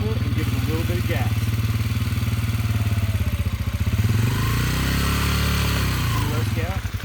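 Dirt bike engine idling with a steady low rumble, then revving up and settling as the rider gives gas and eases the clutch, close by with an instructor talking over it.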